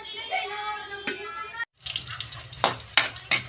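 Softened pork sautéing in a pan for binagoongan, a close sizzle and hiss with a few sharp crackling bursts, after a brief tonal hum and a short silent gap.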